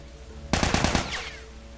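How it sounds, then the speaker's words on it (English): Rapid burst of automatic gunfire in The Last of Us video game, about half a second of loud cracks in quick succession after a quiet start, trailing off into a fading echo. "Why were they shooting?"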